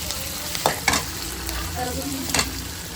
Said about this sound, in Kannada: ನಾನು ಒಗ್ಗರಣೆ ಹಾಕೊಂಡ್ಬಿಡ್ತೀನಿ